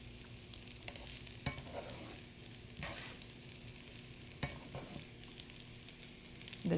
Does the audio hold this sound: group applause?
no